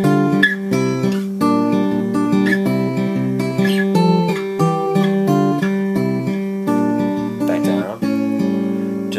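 An acoustic guitar fingerpicks the chorus of a song, steady plucked bass notes under a moving melody with sliding fretted pairs, close and clear with no voice.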